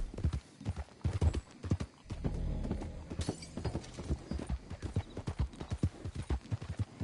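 A horse gallops in Red Dead Redemption 2, its hooves pounding in a fast, continuous clip-clop rhythm up close, with a brief whinny partway through and no talk.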